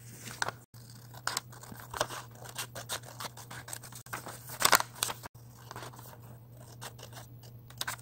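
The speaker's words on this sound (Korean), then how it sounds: "크기를 따라 가위로 자릅니다." Scissors snip through folded brown colored paper in a run of quick close cuts, crisp and intermittent over a steady low hum.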